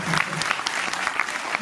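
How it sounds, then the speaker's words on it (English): Audience applause at a musical night launching a single, with a dense, steady wash of clapping from a crowd that fills the whole moment without pause. "One more round of applause for him,"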